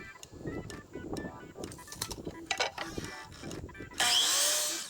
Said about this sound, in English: Next I'll cut up some 1x2s.